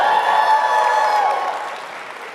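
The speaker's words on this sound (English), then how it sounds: "yeah, you can cheer for that" Audience cheering and applause at a live interview event, a dense steady wash of clapping and cheers that fades slightly toward the end.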